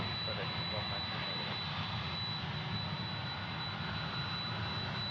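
Jet engines of a Boeing 777 airliner at Memphis International Airport roar steadily and loudly throughout, a broad continuous rumble without break.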